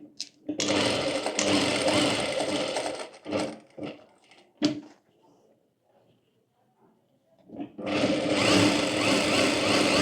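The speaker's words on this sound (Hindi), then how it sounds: "अब यहाँ पर इसे इस तरह से रखकर चारों ओर सिलाई कर लेंगे।" A sewing machine runs in long loud bursts, stitching around the edges of fabric for a summer co-ord set, with a quieter gap of brief start-stop taps in between.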